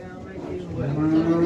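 A cow lets out a low, drawn-out moo, rising in pitch toward the end, close by amid faint background noise at the Shofirkon livestock market.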